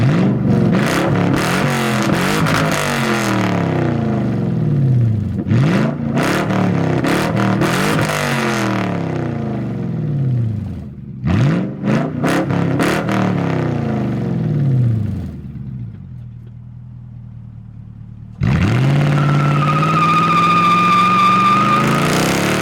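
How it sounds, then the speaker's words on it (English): A Lexus SC400 with an aftermarket exhaust revs repeatedly in a neighborhood, loud close bursts rising and falling in pitch, settling to idle between pulls, then a final sustained high rev. "Let me go give you some revs real quick."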